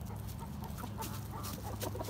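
A rooster clucks softly a few times over a steady low hum of background noise, fairly faint and short.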